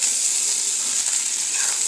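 Cooked rice fried in a hot pan gives a bright, continuous sizzle and hiss, close and steady throughout with no voices.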